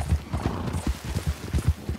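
Horse hooves clip-clop at a steady walking pace in Red Dead Redemption II, a soft regular rhythm of low thuds running through the whole stretch with no talking.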